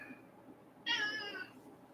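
A cat gives one clear, fairly close meow lasting about half a second, with no one talking.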